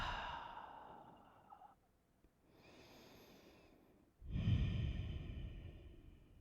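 During a shoulder-focused yoga pose, a person breathes audibly: a long soft exhale, a quieter inhale, then a heavy, louder sighing exhale close to the microphone, with no talking.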